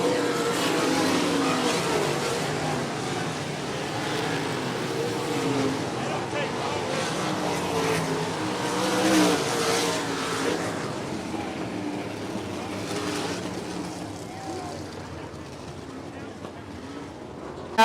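Race cars at 105 Speedway drone and whine around the track in a continuous engine roar, swelling and fading as they pass, with an announcer talking over it.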